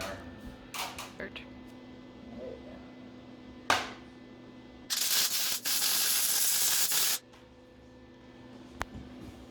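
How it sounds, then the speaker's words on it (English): Welding on a steel stair railing: two back-to-back bursts of steady crackling hiss, fairly close and loud, following quieter shop clatter and a sharp knock, with low background hum throughout. "I'll weld the bottom there."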